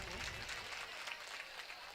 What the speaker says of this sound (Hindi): तो एक बार जोरदार तालियां बजा के कम से कम मुझे बता दीजिए